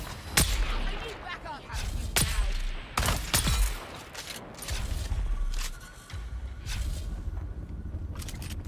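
Gunfire in Dune: Awakening, with repeated loud, sharp shots at irregular intervals over a noisy, busy game backdrop, some bursts close and heavy, others lighter and farther off.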